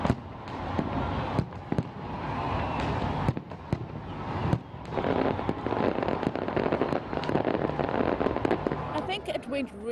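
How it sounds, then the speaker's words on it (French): Fireworks for the 2016 New Year bang and crackle in rapid, irregular bursts, loud and continuous, with people's voices mixed in underneath. "un majestueux spectacle de feux d'artifice a été organisé pour marquer le passage à la nouvelle année"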